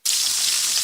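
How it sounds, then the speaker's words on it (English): Bacon sizzling on a grill, a bright continuous crackling hiss that starts abruptly and stays loud and even throughout. "That is the sound of bacon sizzling"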